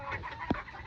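Spangled pair of Old English Game Bantam chickens in a barn, one short cluck amid faint background noise, close and brief.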